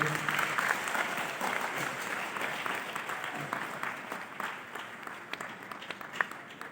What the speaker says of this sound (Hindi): सारे हृदय से जोरदार ताली में